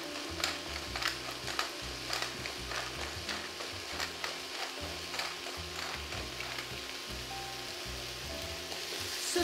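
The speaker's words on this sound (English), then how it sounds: "Saute for a couple of minutes. Let everything get toasty." Lentil pilaf ingredients sautéing in a pan with salt and pepper, a soft continuous sizzle with repeated scraping stirs of a utensil, quiet and close with no talking.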